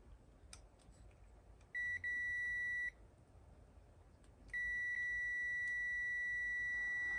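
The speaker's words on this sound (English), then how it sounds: "we want beepy. Got beep." Two steady electronic beep tones from a Heathkit IT-12 signal tracer, the first about a second long, the second continuous, high-pitched and clear over faint background noise.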